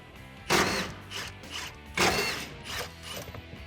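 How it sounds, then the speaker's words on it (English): A 15 mm socket ratchet clicks and whirs in two quick bursts while removing bolts from a 2019-2020 Silverado 1500 front bumper, close and loud with short mechanical pauses between. "So grab a 15 millimeter socket and remove these bolts."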